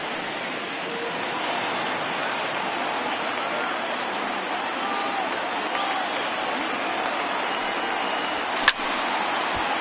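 A baseball stadium crowd of over 30,000 roars steadily in a dense, continuous wash of cheering that stays loud and unbroken throughout, with a single sharp knock near the end.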